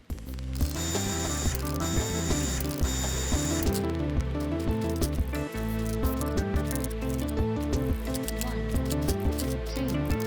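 Engine teardown in Car Mechanic Simulator 2021 on a Porsche 911 motor mounted on a stand, with repeated quick ratchet clicks and mechanical tool sounds over a steady background of music, continuous and fairly loud.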